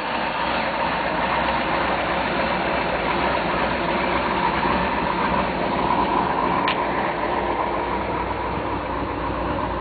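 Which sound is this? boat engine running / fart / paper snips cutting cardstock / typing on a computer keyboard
boat engine running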